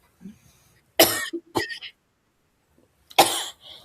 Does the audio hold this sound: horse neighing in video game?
no